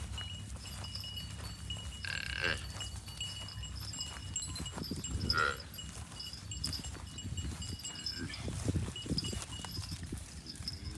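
Calves and cattle at a temple cowshed shuffling and stepping about, hooves clopping on hard ground, with a brief animal call partway through.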